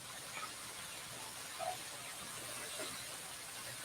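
Soft, steady sizzling hiss of vegetables stir-frying in a pan at medium-high heat, faint and continuous with a few small pops.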